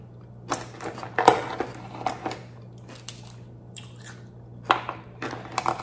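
Someone eats crab with spicy, salty sauce during a mukbang, close-up wet chewing and crunching bites in irregular bursts with quiet gaps and a low background hum.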